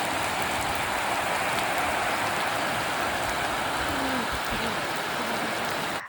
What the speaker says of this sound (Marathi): पाऊस सुरू झाला, हवा सुटली